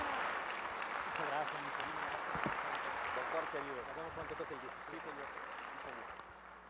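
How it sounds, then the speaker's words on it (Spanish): An audience gives sustained applause at an academic event honoring Dr. Miguel Székely, a steady wash of clapping that fades slightly toward the end, with a voice speaking over it. "Le pido le agradezcamos con un fuerte aplauso al doctor Miguel Sekel y su presencia."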